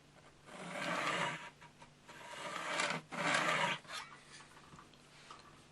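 Pencil lead rubbing in bold strokes on a chipboard panel beside a square: two long, fairly close scratchy passes with short pauses between them, then lighter scraping at the end, with no talking.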